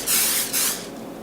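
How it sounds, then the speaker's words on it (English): Pam cooking spray hisses into a red bowl in two close, bright bursts, the second shorter and followed by a fading tail. "grab that red bowl and spray a little bit of Pam in it"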